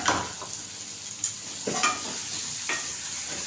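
Steady sizzling in a hot pan with a few short splashy bursts of masala water poured in, for a drumstick and potato curry, close and moderately loud, no talking.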